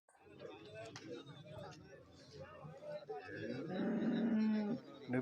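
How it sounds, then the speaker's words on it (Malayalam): A cow moos loudly and drawn-out near the end, amid background voices and farmyard noise at a cattle market. "പശുക്കുട്ടികൾ നല്ല പൈക്കുട്ടികളൊക്കെ ഉണ്ട്"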